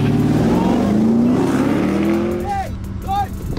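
Chevrolet Camaro and BMW i8 launching side by side in a drag race, a loud rising engine roar building continuously with shouting voices over it, then easing off near the end.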